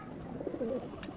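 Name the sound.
pigeons cooing as they land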